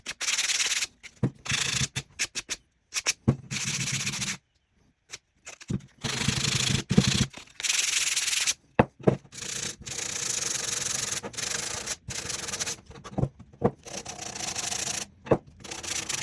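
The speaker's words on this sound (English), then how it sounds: "So we're going to sand it. I'm going to start with a 180, bring it up to 220." A wooden wand stand is worked by hand with 180 grit sandpaper, giving steady back-and-forth scratchy rubbing strokes in uneven bursts with short pauses between them, close and clear with no talk.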